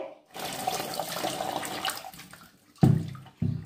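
Poha (flattened rice) is rinsed in water in a kitchen, with a steady rush of running and splashing water that fades, followed by two louder sloshing bursts near the end.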